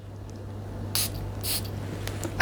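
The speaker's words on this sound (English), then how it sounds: "the psht on this spray" A Francesca Bianchi Angel's Dust perfume bottle gives two quick spritzes about half a second apart, soft airy hisses close by over a faint steady hum.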